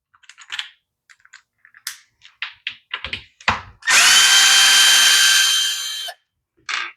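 A power drill spins out screws from a Stihl blower during pull cord repair, preceded by scattered clicks and handling taps, then a loud, steady close whir lasting about two seconds before stopping, with a brief tap after.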